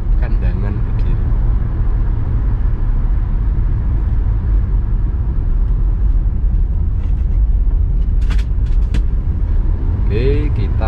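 Car cruising through the night on the road from Jombang to Malang near Desa Rejoagung, a steady low engine and road rumble running throughout, with someone talking over it.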